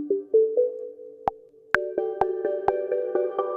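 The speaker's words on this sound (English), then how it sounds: "We have this lovely little ARP sound, which plays only occasionally." A short synth arpeggio of plucky tones plays with a podcast theme that sounds like a phone ringtone. Sharp percussive clicks punctuate the rising sustained notes, and the layered tones thicken after the midpoint. No voice is heard.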